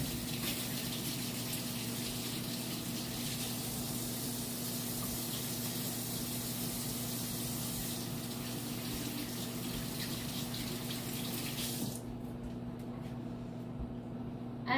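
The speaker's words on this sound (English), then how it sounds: "wash my hands real quick" Hands being washed under a running kitchen tap, a steady close gush of water with faint splashing over a low hum, stopping abruptly near the end.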